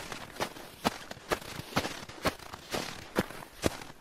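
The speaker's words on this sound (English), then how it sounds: "loud, crunching, fast footsteps in the snow behind him" Quick footsteps crunch over snow at a steady, hurried pace, about two crisp steps per second, fairly close and unaccompanied by voices.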